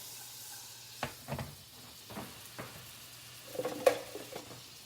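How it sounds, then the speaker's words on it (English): Butter melting in a pan for banana Foster's French toast gives a faint, steady sizzle with a few soft scrapes and taps of utensils against the cookware, no voices present. "Now this is going to be quick, so you guys got to watch while your butter is basically melting"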